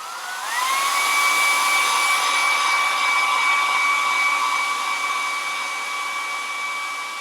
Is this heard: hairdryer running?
yes